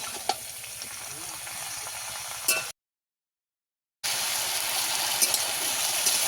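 Winter vegetables frying in a pan, a steady bright sizzle with occasional pops and stirring, cut by a brief silent gap and resuming just as strong.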